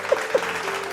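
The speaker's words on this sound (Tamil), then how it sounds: "கையத்தட்டு." Church congregation claps during a Sunday Tamil service, a brief burst of steady group hand-clapping with a couple of louder accents near the start, heard alone.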